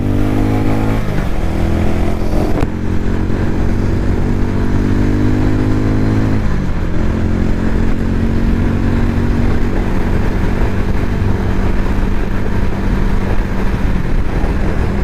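A Harley-Davidson X440 motorcycle pulls hard in second gear, its engine note climbing steadily in pitch with a brief dip at a shift, loud and close throughout against steady wind rush.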